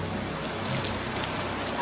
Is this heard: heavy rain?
yes